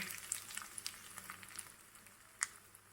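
Crackling sizzle of mustard and cumin seeds popping in hot oil for a tempering, with scattered sharp pops and one louder crack, steady and close.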